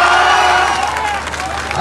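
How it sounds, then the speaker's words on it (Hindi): Crowd cheering and clapping at a Lok Sabha election rally in Bhavnagar, Gujarat, a loud, dense roar of many voices that stays strong and eases slightly over its short span. "ठोको ताली"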